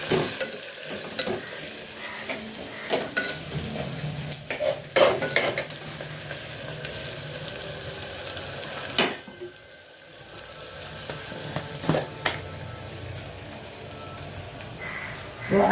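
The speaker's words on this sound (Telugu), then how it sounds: "ఉల్లిగడ్డ దింపుతున్నాం" Onions frying in a pan for mutton curry, a continuous close sizzle broken by repeated scraping and clinking strokes of a spoon stirring against the pan, with a brief quieter dip midway.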